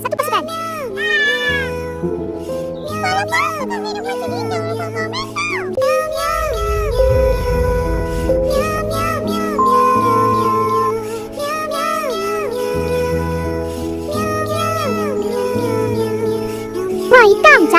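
Cartoon cats in a Malay children's show meow repeatedly in bright, rising and falling calls, several in quick succession, mixed with character voices and background music.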